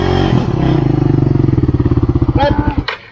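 A motorcycle idles and revs nearby with a rapid, throbbing putter that pulses steadily, loud and close, while people talk in a local language over it.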